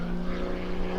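A Wolf Pitts aerobatic biplane with a 400-horsepower engine drones overhead at an airshow, a steady buzzing propeller tone that holds level for a brief moment.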